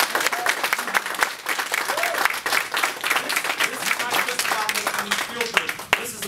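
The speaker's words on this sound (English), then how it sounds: "Let's give both of you applause." An audience breaks into steady, dense applause, with many hands clapping loudly for about six seconds while a voice cuts in briefly over it.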